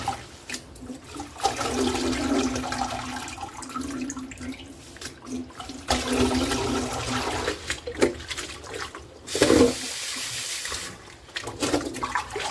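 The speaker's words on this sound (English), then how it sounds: "But khas needs to be thoroughly washed." Water runs and splashes steadily, like a tap over a sink, while washing khas roots, with brief louder gushes and pauses in between.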